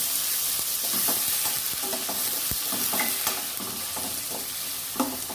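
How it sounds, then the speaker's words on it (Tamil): Oil hits a hot pan with a continuous bright sizzle, punctuated by scattered clicks and scraping taps of a utensil against the pan. "ஆயில் ஊற்றிக்கலாம்."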